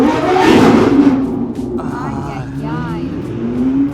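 A Porsche 911 GT3 engine rumbles and revs nearby at a California car festival, its deep roar rising and falling, with a voice speaking over it part of the time.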